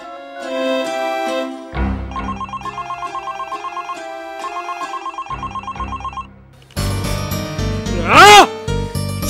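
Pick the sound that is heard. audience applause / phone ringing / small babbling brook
phone ringing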